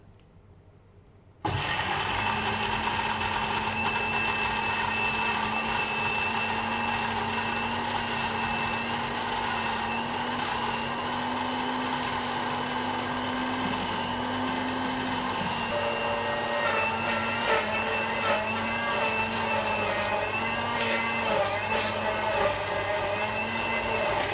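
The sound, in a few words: blender running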